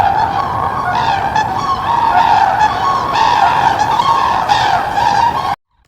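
Sandhill cranes call during migration, a dense chorus of loud rolling trumpeting calls that overlap continuously before cutting off abruptly at the end.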